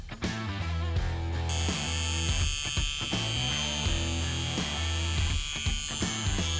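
A Hummingbird BRONC wireless tattoo machine runs steadily with a continuous electric buzz and whine, close and constant for several seconds with no talking.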